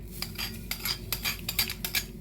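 A spoon scrapes and clinks against a pan as grated coconut goes into a roasting crab curry masala, producing a run of short metallic taps and scrapes in irregular rhythm, close and fairly faint, with no talking.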